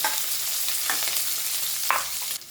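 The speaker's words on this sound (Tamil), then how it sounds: "இப்போ இந்த வெங்காயமும் நல்லா வதங்கி வரட்டும்" Small onions and garlic frying in a pan, a continuous soft sizzle with a few light scraping stirs, close and moderately quiet, no talking.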